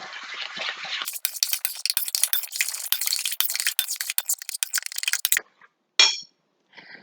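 A spoon stirs yoghurt sauce for a haydari dip in a bowl, giving about four seconds of quick, close clinks and scrapes against the bowl, with a short soft hiss before and a brief burst after.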